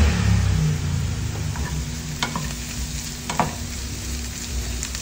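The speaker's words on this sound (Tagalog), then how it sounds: "So, igisa-gisa lang natin yan." Cooked potatoes are sautéed in an oiled pan for a simple breakfast, giving a loud, constant close sizzle with light scrapes of stirring on top.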